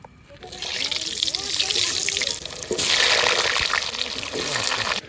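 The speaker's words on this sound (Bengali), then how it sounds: "তো তেলটা গরম হয়ে গেছে, আলুটা দিদি ভেজে দিই" Potatoes sizzle in hot oil over an outdoor cooking fire in a forest, a steady close hiss that swells as they go in, with voices talking over it.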